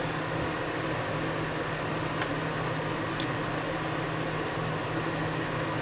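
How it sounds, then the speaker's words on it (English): A repaired electric space heater runs with its fan spinning, giving a steady, even whir and broadband hiss with a low hum underneath, constant throughout with a few faint ticks. "you'll see the fan is indeed spinning"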